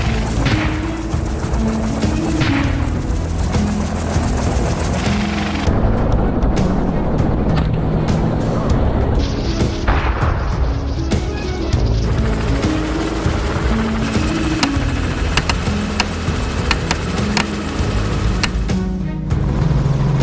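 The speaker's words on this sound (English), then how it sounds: "the helicopter roared back to life and we resumed our pursuit" A helicopter engine and rotor roar loudly and continuously, close by, with steady droning and thumping and some wind buffeting throughout, during a wild boar hunt in -10 degree snow.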